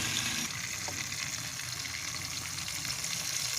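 Chillies fry in hot oil in a pan for achari bhindi, a spiced okra dish, with a dense, continuous crackling sizzle that stays loud and close throughout, and no talking over it.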